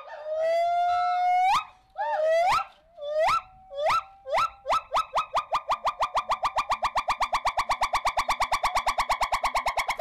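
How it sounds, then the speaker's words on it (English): Gibbons calling: a series of rising, whooping hoots that speed up into a rapid, even train of short notes, loud and clear, with no talking. "the noises that the gibbons make"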